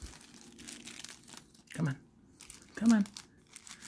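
Plastic bags crinkling as they are pulled off a doll's foam-wrapped braided twin tails during an unboxing, two close, distinct crumpling bursts between quiet stretches, with a brief spoken remark.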